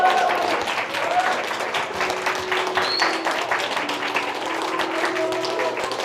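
A youth worship congregation in a Korean church claps steadily and warmly to welcome a new teacher, a national women's kabaddi team player. The dense applause runs unbroken and fairly loud from start to finish.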